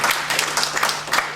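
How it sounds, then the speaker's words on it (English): A lecture audience breaks into applause, a dense burst of many hands clapping together that stays near and fairly loud for a brief moment. "Applauding that the 500 exist, and they're applauding that."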